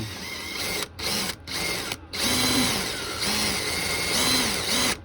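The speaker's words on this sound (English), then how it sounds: "Right, let's drill backwards." A power drill running in reverse whirs steadily at close range, its motor pitch dipping and rising, with a few brief stops between runs.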